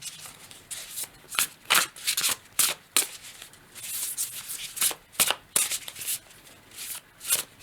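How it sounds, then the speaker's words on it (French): A deck of tarot cards being shuffled by hand, a rapid series of crisp riffling bursts with short pauses between them, close and fairly quiet, with no talking. "Je vais rebrasser."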